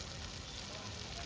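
Katla fish roe frying in a pan with chopped garlic, ginger, salt and turmeric sends up a steady, close, dense sizzle that holds evenly throughout, with no voices.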